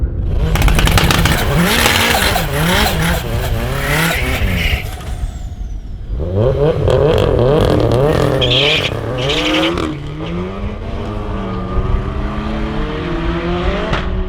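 An Audi RS3 drag car launches hard down the strip at a Euro drag day, its engine loud and close as it screams through rising gear pulls with a brief shift gap, then fades into further revving.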